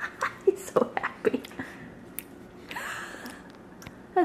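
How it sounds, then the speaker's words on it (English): Baby chewing a piece of candy up close, with soft wet squishy smacks in a quick irregular cluster early on, then quieter mouth noises fading under faint background sound. "That's the cutest chewing I've ever heard."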